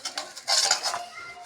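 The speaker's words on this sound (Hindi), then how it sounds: "बड़े बड़े बर्तन मंजना पड़ रहा है।" Large metal pots and dishes are scrubbed and washed, with close, bright clattering and scraping clinks in quick irregular bursts.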